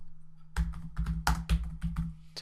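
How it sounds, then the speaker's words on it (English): Keys clatter on a computer keyboard in a burst of quick, uneven typing, close and clear over a low steady hum while text is entered into a Revit drawing. "start typing away"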